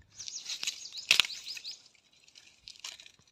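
Faint Asian koel calls repeat in a quick series, with a sharper burst partway through, against a quiet background.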